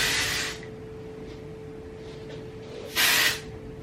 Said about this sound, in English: I'm gonna go in with the Way Texturizing Hairspray